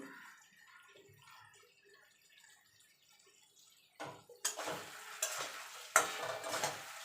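Potatoes and spices stirred in a pan for a Bengali brinjal and fish curry: quiet at first, then bursts of close scraping and sizzling as the mixture is turned, with no voices.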